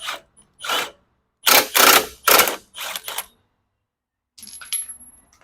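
Lower ball joint nut on a 2014 Chevy Silverado 4x4 being spun off with a ratchet: several short bursts of rapid metallic clicking separated by pauses, fairly close and clear, ending with a fainter rattle.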